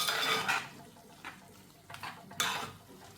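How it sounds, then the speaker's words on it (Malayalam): Metal utensil scraping and clinking against a pan as a spinach avial mixture is stirred, in irregular bursts with quieter pauses between. "നന്നായിട്ടൊന്ന് മിക്സ് ചെയ്ത് കൊടുക്കാം"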